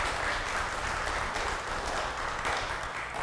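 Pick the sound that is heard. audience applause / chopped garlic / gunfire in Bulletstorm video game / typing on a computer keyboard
audience applause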